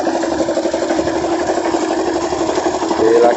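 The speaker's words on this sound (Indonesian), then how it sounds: "Berisik itu suara molen." A concrete mixer runs at a mosque construction site, giving a loud, steady mechanical drone with a rattling rumble that continues without a break.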